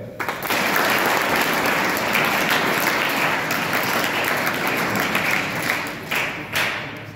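Audience at an NSS winter camp inauguration ceremony in a village breaks into sustained, dense applause that stays steady for several seconds and then tapers off, with a little murmuring underneath.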